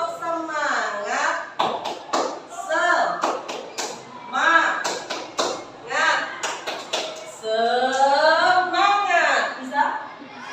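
A class of pupils performs the tepuk semangat clap routine, with sharp rhythmic claps in quick patterned bursts and their voices chanting along between and over the claps.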